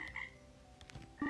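A frog croaks in a Roblox egg hunt game, a short, clear, croaking call with a low buzzy tone over faint game background, without any speech.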